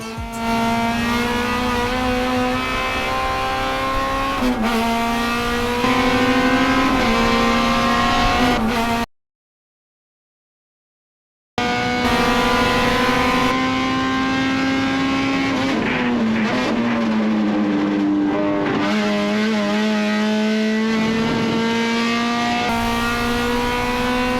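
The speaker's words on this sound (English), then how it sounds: "we're coming up to the biggest brake zone of the track, and of course we're flying over this curve at flat out" A race car drives flat out on a track, its engine holding a loud, steady high-pitched drone with brief shifts and a short silent gap midway, then resuming at full throttle.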